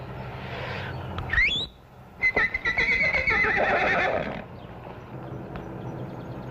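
A horse neighs loudly in a stable, a shrill rising whinny followed by a long, rough, shuddering call that fades out, with quiet room ambience around it.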